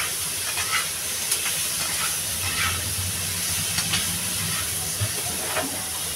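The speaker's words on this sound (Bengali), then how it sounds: "তরকারিটা আমার ভাজা হয়ে গেছে" Banana and potato curry with shingi fish fries in a pan, giving a steady, soft hiss of sizzling with a few faint clinks, and no talking.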